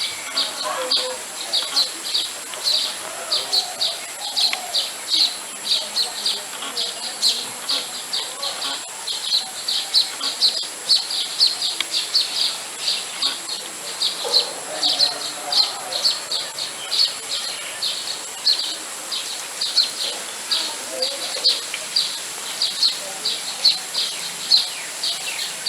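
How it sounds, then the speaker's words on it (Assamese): A colony of baya weaver birds calls around their hanging nests in Assam, a continuous high, buzzy chatter of chirps and trills that carries steadily at moderate distance. "এইজনী টুকুৰা চৰাইজনী"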